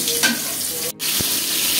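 Pieces of hilsa fish fry in a pan with a close, continuous sizzle and a brief clatter from a utensil. A momentary dropout interrupts it near the middle.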